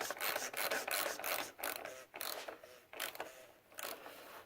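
Ratcheting hand tool tightening the oil filter housing on a BMW E46, a close series of quick clicking, rasping strokes in short bursts with brief pauses between them, no talking.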